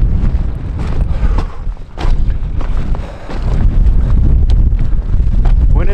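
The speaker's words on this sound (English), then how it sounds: "Pretty cold and windy now." Heavy cold wind on an exposed New Zealand ridge buffeting the microphone, a loud continuous rumbling roar with gusty surges and a brief dip partway through.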